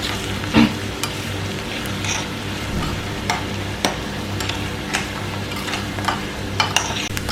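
Onions sautéing in oil for a Thrissur-style fish curry, with a steady close sizzle and repeated scraping stirs of a spoon against the pan, a couple of sharper knocks standing out.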